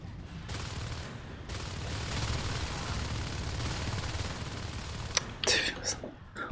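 Light machine guns fire in the Natural Selection 2 video game as a continuous rattling stream of rapid shots, moderately loud, with a couple of sharper bursts near the end.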